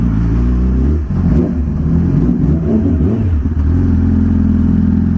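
A motorcycle rides along toward a parking lot, its engine droning loud and close with shifting revs and steady mechanical rumble throughout.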